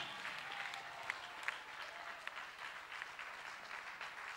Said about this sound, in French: acclame fortement le Seigneur